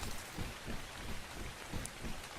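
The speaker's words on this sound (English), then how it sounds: "We got some rain coming" Steady rainfall in the survival video game ARK, a dense even patter of drops on surfaces that holds at an even level throughout, with no voices.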